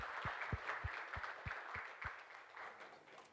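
Steady audience applause at a conference panel on low-carbon value chains, many hands clapping evenly at moderate volume, then slowly thinning out as the clapping fades toward the end.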